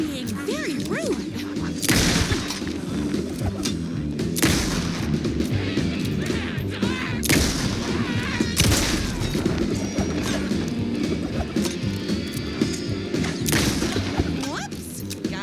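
Heavy gunfire in the video game Alan Wake 2 Night Springs, loud repeated shots and crashing impacts over a dense, continuous action soundscape.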